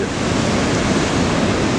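Ocean surf at Anglet beach on a morning of rising swell, with waves around 1.5 metres, a loud continuous roar of breaking water mixed with wind noise on the microphone.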